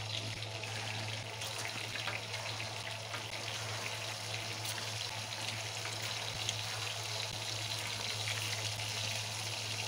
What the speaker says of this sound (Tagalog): I-deep fry natin siya guys. Salang na natin yung ating meatballs